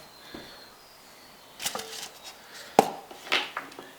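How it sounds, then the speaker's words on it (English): Tough wax being broken into small bits by hand: a few sharp cracks and snaps after a quiet start, scattered and close, with light crumbling rustle between them. "I'm just going to break this up like I did the stuff earlier in the smaller bits so it melts better"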